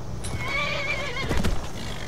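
A horse in the game Skyrim gives a wavering neigh, fairly quiet, over a low rumbling background with a few soft thumps.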